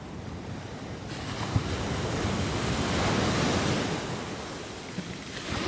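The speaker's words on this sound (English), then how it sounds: "Here comes the water. It's so loud." Ocean waves washing up on a beach, a loud continuous roar of surf with a swell building and receding, mixed with wind buffeting the microphone, no voices.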